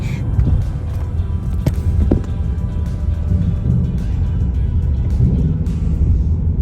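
A Dodge Challenger Scat Pack muscle car engine rumbles steadily and up close through a downshift, a deep continuous throaty growl with no speech.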